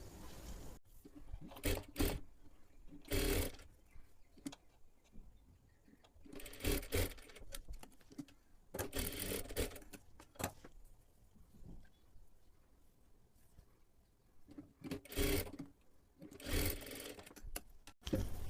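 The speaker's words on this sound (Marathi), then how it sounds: "डबल शिलाई मारून घ्यायची आहे" A sewing machine double-stitches blouse piping strips together, running in several short bursts of rapid whirring separated by quieter pauses, close and fairly loud with no talking.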